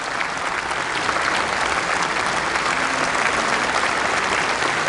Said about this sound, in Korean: 국회의원들이 다 일어서서 기립 박수를 치고 있네요.